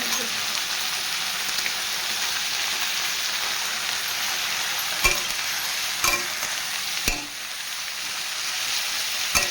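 Potatoes fry in a pan with turmeric and salt, a steady dense sizzle that runs throughout, broken by a few sharp scrapes as they are stirred.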